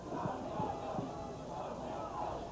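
A distant stadium crowd cheers and roars at a 1983 Queen's Golden Gaels vs. McGill university football divisional final, a faint, steady wash of many voices with a few brief louder bursts.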